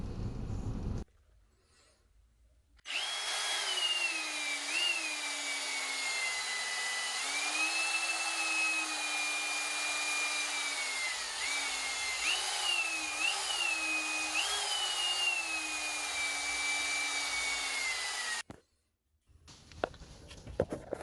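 A power tool spins a felt pad to buff epoxy grout haze off glazed porcelain tiles, giving a loud, steady high whine that wavers in pitch for about fifteen seconds between quiet gaps.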